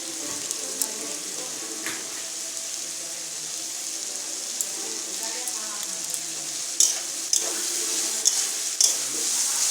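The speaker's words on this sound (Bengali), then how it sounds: "এবার আমি বাঁধাকপি কেটে রেখেছিলাম সেটা দিয়ে দেবো সেটা দিয়ে আবারও ফের একসঙ্গে মিশিয়ে নেব" Shrimp and cabbage stir-fried together in a pan for vegetarian-style pasta prep, with a steady sizzle under repeated scraping and stirring clinks, a few sharper knocks near the end, no voices.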